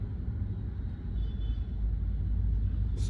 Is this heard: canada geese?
no